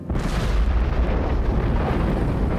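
Depth charges exploding against the hull of a U-boat, picked up by a warship's underwater sound gear: a continuous deep, rumbling roar that stays heavy and loud throughout with no talking.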